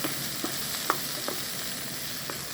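Chopped mushrooms hit a pan of golden frying garlic, giving a steady close sizzle broken by a few soft stirring scrapes and clicks.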